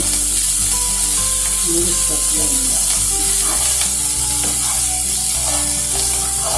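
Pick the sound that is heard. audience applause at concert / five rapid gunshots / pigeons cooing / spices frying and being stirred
spices frying and being stirred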